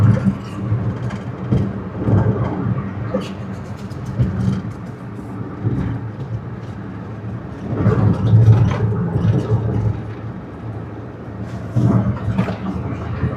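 Interior drone of a car cruising on a highway at 100 km/h, a steady low engine and tyre rumble with rising and falling road noise throughout, no talk.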